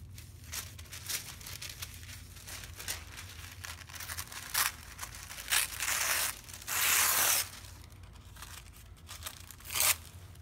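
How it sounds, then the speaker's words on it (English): Blue paper being torn by hand into mountain shapes, a run of close crisp rips and crinkles, some short and some longer and louder, with no talking. "And I'm gonna start tearing that paper into more of a mountain shape."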